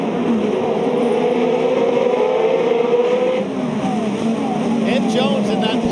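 IndyCar race cars roar past at Road America, a dense, continuous engine drone with shifting pitch as cars run side by side, heard steadily throughout with a commentator talking over it.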